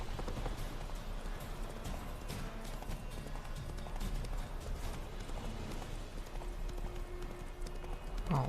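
Horse hooves clip-clop at a steady gallop in a video game, a dense continuous drumming held close and loud throughout, with a faint tonal game sound near the end.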